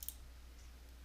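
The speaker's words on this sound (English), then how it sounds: "I'll click OK." One soft, short mouse click near the start confirms an OK button in an Adobe Acrobat Pro DC dialog; quiet room hum fills the rest.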